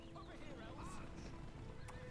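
Elven cavalry horses in Lord of the Rings: The Battle for Middle-earth II, Rise of the Witch-king, a steady clatter of hooves with a whinny, set amid a dense battle din while a voice talks over it.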